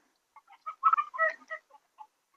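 Desi chickens cluck on a free-range farm in a short run of clear, separate clucks and calls, fairly close, with quiet gaps between them and no voices.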